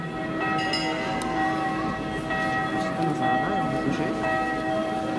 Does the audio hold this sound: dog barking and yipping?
no